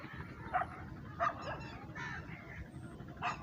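Puppies whimper and yap in short high-pitched bursts, about four or five cries spread over a few seconds, close by over a low rumbling background.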